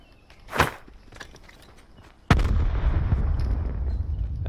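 A single heavy gunshot in a squad-based military shooter game booms out sharply and is followed by a sustained low rumble that fills the rest of the moment, with a softer thump just before it.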